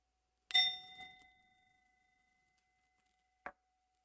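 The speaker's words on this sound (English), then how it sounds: "As we hear the sound of the bell, we can all bow" A single meditation bell struck once, a clear metallic ding that rings out and slowly fades over a couple of seconds, followed by a brief soft tap near the end, in an otherwise silent room.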